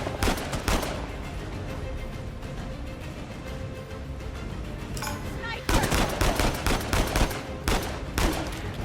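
Gunfire in the Uncharted 4 video game, a steady spray of shots through the opening second, then denser bursts of rapid fire after the midpoint, loud and close over a busy game soundscape.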